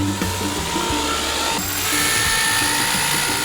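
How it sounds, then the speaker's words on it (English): A small electric saw cutting fabric whines at a high pitch, running continuously with slight shifts in tone as it cuts, loud and close. "Did you hear the sound of the little whizzy saw that cut the fabric?"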